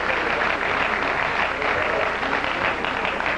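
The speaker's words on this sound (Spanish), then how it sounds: "antes despedimos a Adriana y Luis Fernando de Manizales con 40 mil pesos y un aplauso muy fuerte" Studio audience applause on a TV game show, a steady wash of clapping filling the room at full volume and holding evenly for a few seconds with no voices over it.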